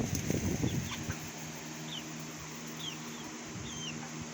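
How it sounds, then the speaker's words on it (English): Hens in a backyard flock give soft, scattered clucks and short calls over a faint outdoor hum, with a brief rustle at the start. "Chickens!"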